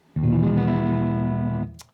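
An electric guitar chord, played after the strings were stretched, rings out with heavy distortion, sustained for over a second before being cut off, followed by a brief scratchy string noise.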